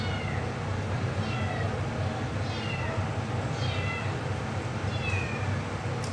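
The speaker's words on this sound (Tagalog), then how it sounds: "Wala kami pusa sa labas lang siya." A cat meows repeatedly outside, about four drawn-out calls spaced a second or so apart, heard at a distance over a steady low background hum.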